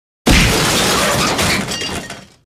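Glass shatters loudly as a hammer smashes it, a sudden crash followed by about two seconds of scattering debris that trails off into silence.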